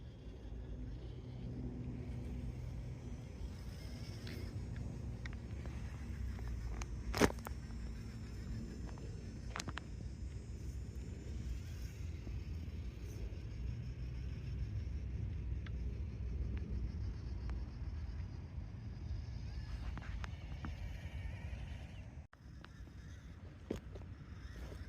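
A Prophet Designs Doomsday SCX24 RC crawler, a light small-scale model, drives and climbs straight up terrain, its small electric motor giving a low continuous whirring rumble with occasional clicks, faint and steady throughout.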